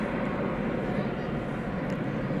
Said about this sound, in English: That plane is arriving from Tyler, Texas.